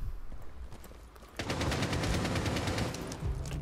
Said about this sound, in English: Did the bullets come across there?